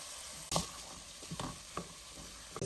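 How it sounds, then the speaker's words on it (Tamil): Eggplant goes into a pan of sautéed onions, giving a quiet, close sizzle with a few sharp clatters and stirring knocks scattered through it, with no voices. "வதங்கினதுக்கப்புறம் கத்திரிக்காயை போடுறோம்."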